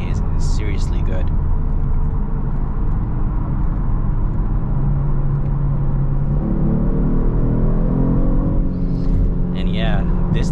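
A 2022 Genesis G70 RWD with a 3.3 twin-turbo V6 and an 8-speed automatic accelerates, its deep engine rumble rising in pitch toward the end beneath someone talking throughout.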